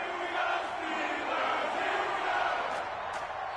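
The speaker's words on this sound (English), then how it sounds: "This crowd is ready as their guys get set to match up" An NFL stadium crowd at an Atlanta Falcons versus Pittsburgh Steelers game roars in a steady, dense wash of cheering, loud and sustained without a break.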